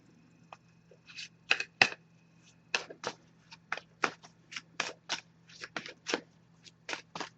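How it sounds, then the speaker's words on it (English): Deck of oracle cards being shuffled by hand, a quick run of crisp riffles and flicks in an uneven rhythm, close and clear in a quiet room with no talking. "So I'm just going to give this deck a few shuffles now"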